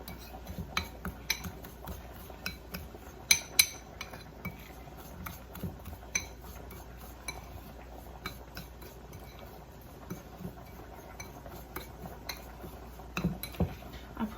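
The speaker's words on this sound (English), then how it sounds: "Mix it up with the butter." Utensil scraping and clinking in a bowl as a chicken topping mixture is stirred together with butter, producing irregular light taps and clinks over a quiet room.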